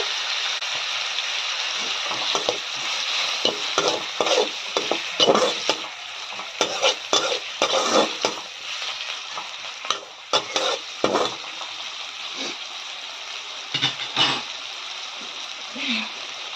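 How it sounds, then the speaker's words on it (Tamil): Tomatoes sauté in a pan with ginger garlic paste for an Odisha-style spring onion thokku, giving a steady close sizzle punctuated by frequent scraping stirs. "தக்காளி நல்லா வதங்கட்டும்"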